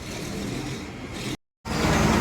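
An MSRTC bus engine idles and rumbles loudly at Nanded bus stand, a steady close drone that cuts out abruptly for a moment before resuming.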